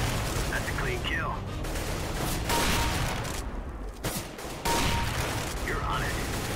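Gunfire in the video game CS:GO: repeated bursts of shots and blasts crowd the whole stretch, loud and dense, with brief lulls between volleys.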